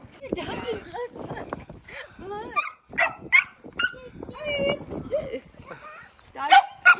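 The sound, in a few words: husky puppies barking and yipping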